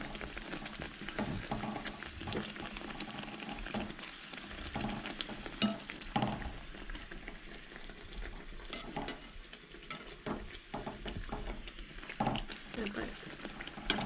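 Banana buns made with jeera fry in hot oil with a steady, continuous sizzle and bubbling, occasionally stirred, heard up close under intermittent talking.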